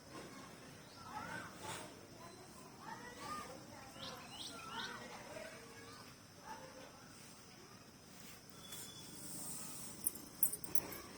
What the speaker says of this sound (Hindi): ये देखिए पक्षी जा रहे हैं